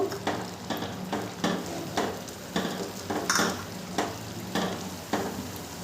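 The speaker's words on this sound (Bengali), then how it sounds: "ঢাকনাটা আমি আবারও তুলে নেব। ভালো করে নেড়ে দেবো।" Pineapple chutney being stirred in a pan, a rhythmic series of scraping strokes roughly every half second over a soft, continuous sizzle, close and fairly loud.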